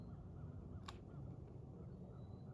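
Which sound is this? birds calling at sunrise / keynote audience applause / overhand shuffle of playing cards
birds calling at sunrise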